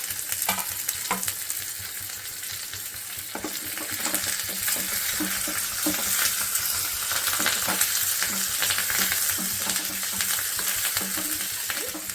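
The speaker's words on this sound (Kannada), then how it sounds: "ಕರಿಬೇವು ಹಾಕಿ 1 ನಿಮಿಷ ಬಾಳಿಸ್ಕೊಳ್ಳೋಣ" Oil sizzles loudly and steadily in a pan as curry leaves fry for tempering, with crackling pops and occasional stirring scrapes throughout.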